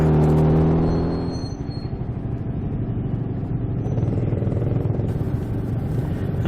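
A BSA motorcycle engine rumbles close by as it pulls away and rides on, a loud, steady droning note after an initial swell, with no talking.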